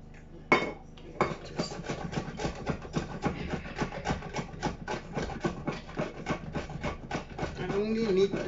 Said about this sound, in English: In the meantime, I'm going to grate